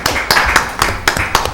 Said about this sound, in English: first applause